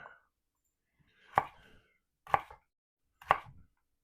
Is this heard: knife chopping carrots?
yes